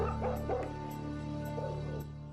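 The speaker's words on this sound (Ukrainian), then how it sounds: "чому пес був залишений на призволяще" A rescued galgo, a Spanish hunting greyhound abandoned after hare-hunting season, gives a few short yips and soft whimpers over a steady background hum, fairly close and moderately loud.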